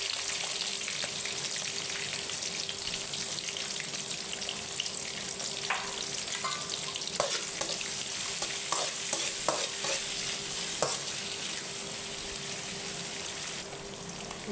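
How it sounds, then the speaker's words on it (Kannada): Two small chopped onions fry in a pan with cashews already in it, a steady close sizzle with intermittent scraping and stirring clatter from the spoon, heard alone without voices. "ಇವಾಗ 2 ಚಿಕ್ಕ ಈರುಳ್ಳಿ ಕಟ್ ಮಾಡ್ಕೊಂಡಿರೋದು ಹಾಕ್ತಾಯಿದ್ದೀನಿ."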